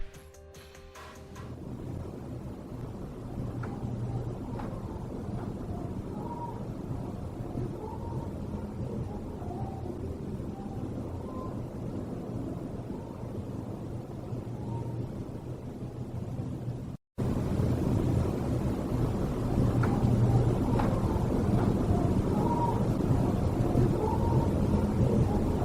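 Windstorm outside an old hospital gives a steady broadband rushing roar that continues through the whole clip. A brief dropout cuts it off once, and no one speaks.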